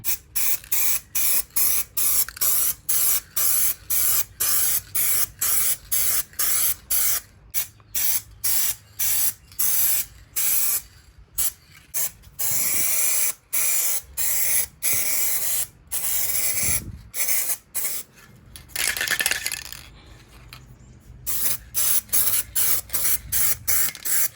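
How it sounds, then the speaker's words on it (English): Aerosol spray paint hisses from a can onto the bumper of a Nissan 300ZX in a long series of loud bursts, each lasting about a second, separated by brief pauses, with a couple of longer gaps. "We're gonna go ahead and crack open this third can of spray paint."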